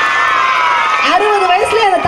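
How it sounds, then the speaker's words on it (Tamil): A crowd at a Tamil pattimandram debate event cheers and shouts, a loud continuous roar with rising whoops and yells layered over it. "இப்ப ஒட்டு மொத்தமா நீங்க கைத்தட்டு கொடுக்கா."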